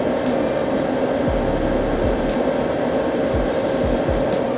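Laser engraver marking the plastic of Google Pixel Buds Pro, a steady loud continuous whine and hum with a constant high tone and periodic low thumps, running alone without voices.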